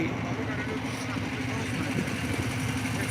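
A boat moving over water between green fields gives a steady, continuous engine drone with rushing noise underneath, heard throughout beneath someone talking.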